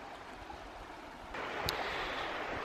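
A small creek in the countryside flows with a steady, soft broadband rush of water that swells slightly louder about halfway through, with no voices.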